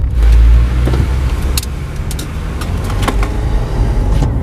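A Honda CR-V third generation with ACDelco shock absorbers rolls onto a toll highway, steady engine and road noise close by, punctuated by a few brief clicks and knocks.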